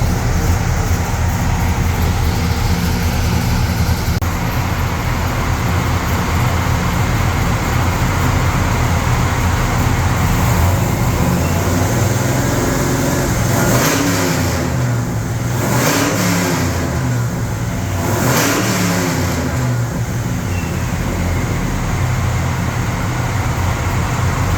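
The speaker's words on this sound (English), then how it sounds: "We're gonna dyno test and try to figure out why the secondaries suck." Car engine revving hard on a dyno at a home shop while a fault with the secondaries is chased down, a loud, sustained roar that holds close throughout, with pitch sweeping up and down in repeated pulls near the middle.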